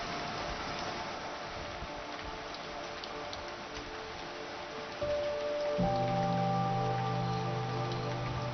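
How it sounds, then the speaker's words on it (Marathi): Heavy unseasonal rain driven by strong wind, a steady dense patter with a broad hiss that holds throughout and grows slightly louder and fuller in the second half, with no voices. "हिंगोली जिल्ह्यामध्ये वादळी वाऱ्यासह जोरदार अवकाळी पाऊस झाला"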